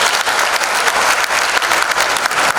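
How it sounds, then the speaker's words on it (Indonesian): A crowd at an Indonesian appreciation night claps for The Pillars members, a loud, dense, continuous burst of applause throughout. "Tepuk tangan dong buat The Pillars."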